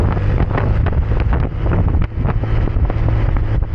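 Strong wind buffets the microphone while riding along a coastal road in Southern Leyte, a loud, close, gusty rumble with irregular thumps and surges throughout, no voices.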